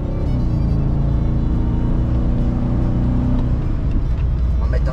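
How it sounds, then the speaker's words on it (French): The V8 engine of a 2004 pickup truck rumbles steadily from inside the cab while driving, a loud, continuous low drone with a deep throb and faint whir, with no clear revving. "Écoute le son du V8."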